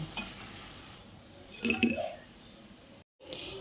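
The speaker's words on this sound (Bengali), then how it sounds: "এবার আমি এই কাবাবগুলোকে তুলে একটা প্লেটের মধ্যে নিয়ে নিচ্ছি" Fried soya kebabs lifted out of hot oil onto a plate, soft oil sizzle with a cluster of utensil clinks and scrapes partway through, a voice talking alongside.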